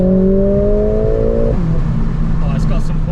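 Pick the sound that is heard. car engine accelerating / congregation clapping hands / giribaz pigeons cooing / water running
car engine accelerating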